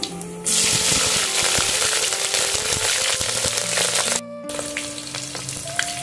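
Cumin, dried red chilies and green chilies hitting hot oil for dalcha, a loud crackling sizzle that erupts suddenly, with spoon clinks and a brief drop where more chilies go in before frying resumes.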